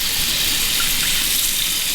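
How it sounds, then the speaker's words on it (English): Steady hiss of running water rinsing a motorcycle air filter, a broad, continuous gush like a tap spraying into a sink, close and unbroken for the whole stretch. "finished rinsing it off"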